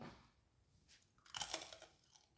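Chewing of crunchy mushroom-flavoured croutons close up, with quiet mouth sounds at first, then a burst of louder crisp crunching that fades out.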